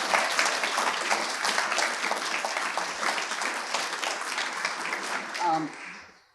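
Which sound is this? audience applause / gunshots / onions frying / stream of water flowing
audience applause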